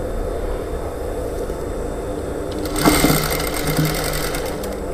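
A sewing machine stitches the lining of a blouse, starting after a quiet stretch and then running as a close, steady whirring rattle through the rest of the clip.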